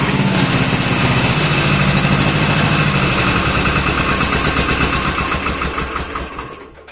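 A Pasquali tractor with a newly repaired starter motor, started on a cold day, runs loud and close with a steady throbbing idle that slowly fades toward the end.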